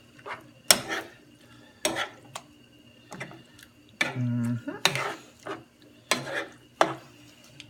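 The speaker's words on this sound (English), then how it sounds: "Get that spoon. Incorporate that white sauce along with that." A spoon stirs white sauce into crabmeat au gratin in a pan, making a series of distinct close scrapes and clinks in an irregular rhythm with a soft sizzle and quiet pauses between strokes.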